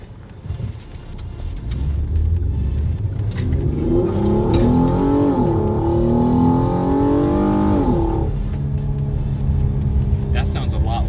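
A 2016 Hyundai Genesis Coupe fitted with an AEM cold air intake revs hard and loud, its engine note climbing and holding for several seconds before dropping off, with people talking over and around it.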